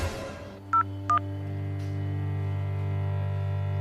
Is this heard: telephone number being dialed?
yes